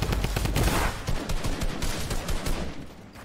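Dense, continuous automatic gunfire rattles loudly and close in the video game Fortnite, a rapid stream of shots with no talking.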